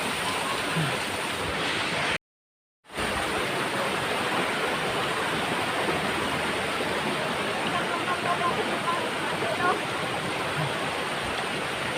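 The waterfall at Srambang Park in Ngawi roars as a steady, broad rush of falling water, unbroken apart from a momentary cut-out early on.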